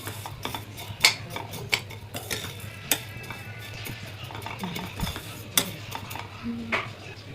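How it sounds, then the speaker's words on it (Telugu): Nuts frying in ghee for payasam, with frequent clinks and scrapes of a metal spoon against the pan over a low, steady background hum and faint sizzle. "ఇవి కూడా గీ వేసుకొని కొంచెం దూరంగా వేయించుకోవాలి."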